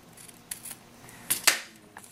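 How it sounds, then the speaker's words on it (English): Scissors cutting off the edge of a paper craft piece, with a few sharp close snips, two bright cuts in quick succession near the end and softer shuffles of paper between, no voices. "I'm going to cut off this edge."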